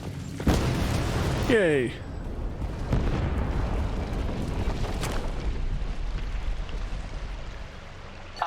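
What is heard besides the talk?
explosion in the video game Mass Effect 2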